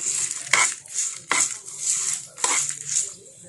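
A spoon stirs and scrapes tempering in a metal bowl for gongura pickle, giving a series of close, clinking strokes and rubbing scrapes at an uneven rhythm.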